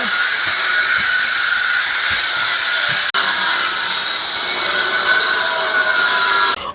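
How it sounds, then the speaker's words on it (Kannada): Steady, loud broadband hiss and grinding of construction work at a temple renovation, continuous with a brief break midway and a sharp drop near the end, without speech. "ದೇವಸ್ಥಾನ ಎಲ್ಲ ಕನ್ಸ್ಟ್ರಕ್ಷನ್ ಮಾಡಿ ಜೀರ್ಣೋದ್ಧಾರ ಮಾಡ್ತಾರೆ ಅದಕ್ಕೋಸ್ಕರ ಸ್ವಲ್ಪ ನಾಯ್ಸ್ ಇರುತ್ತೆ"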